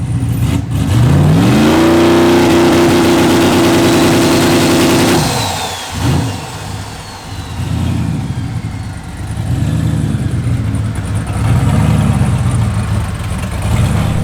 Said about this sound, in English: test out the two-step real quick and on the trans brake, see how much boost we can build